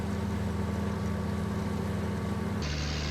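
Fendt tractor engine in Farming Simulator, a steady droning hum held at constant loudness, shifting pitch slightly near the end as the vehicle changes gear or speed, with no talking.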